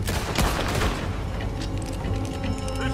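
Dense, loud gunfire in a Red Dead Redemption 2 shootout, with rapid overlapping rifle and pistol shots and booming reports filling the whole stretch without a break.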